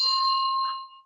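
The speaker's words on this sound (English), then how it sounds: "That was a delayed bell." A single bell struck during a meditation class rings with a clear, bright tone that sustains and slowly fades over about a second, alone in silence.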